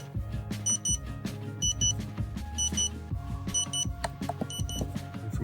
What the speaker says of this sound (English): As it finishes up, you'll notice it'll start beeping